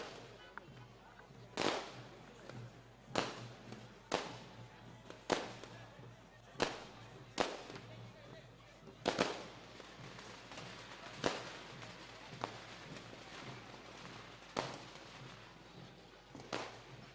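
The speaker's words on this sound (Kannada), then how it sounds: "ಸ್ವಲ್ಪ ದೂರ ಇಡಿ ಪಟಾಕಿ." Firecrackers burst repeatedly at an outdoor state-level kabaddi quarterfinal in Sarjapura, sharp loud cracks spaced every second or two over a steady crowd murmur.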